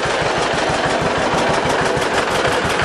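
A John Deere BW tractor runs at steady idle with its carburetor slightly out of tune, giving a loud, close, rhythmic chugging of evenly spaced low thumps over broadband mechanical clatter, with no voices.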